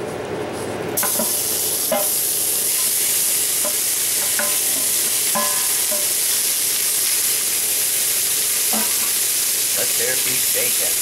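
Bacon sizzles and spits steadily in a Finex cast iron skillet, a loud continuous frying hiss with scattered pops and crackles throughout.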